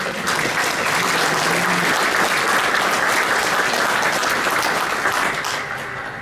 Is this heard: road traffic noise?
no